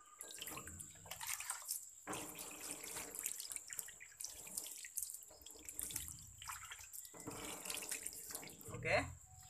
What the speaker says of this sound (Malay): Kita siram pakai air permukaannya.